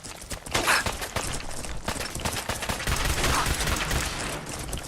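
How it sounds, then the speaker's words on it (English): Rapid shots from a laser pistol in Fallout 4 crackle in quick irregular bursts, loud and close, mixed with other game combat noise, with no one speaking. "I'll use the laser pistol"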